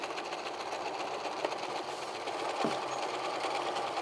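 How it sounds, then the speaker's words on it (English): A sewing machine runs steadily, stitching the folded hem of a home-sewn apron in a continuous mechanical whir, near and fairly even throughout. "Once you get both folds, you're going to start sewing"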